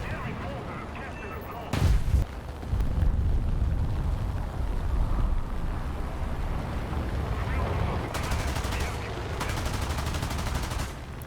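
Bkan 1C self-propelled artillery fires in the War Thunder video game. One heavy blast is followed later by a rapid series of booming shots over rumbling game ambience, with someone talking at times.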